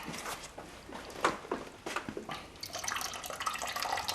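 Distilled water drains out of a tipped engine oil cooler, splashing and trickling in uneven spurts that build into a steadier, louder pour toward the end, close and without talk.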